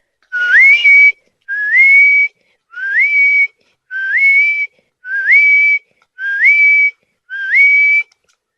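Seven loud, clear rising whistles from a person standing under an old oak, evenly spaced over about eight seconds with short silences between, each a quick upward slide settling on a held note.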